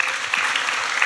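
Church audience clapping together to celebrate a sister church's anniversary, a dense, even wash of many hands at moderate distance, steady throughout with no voices over it.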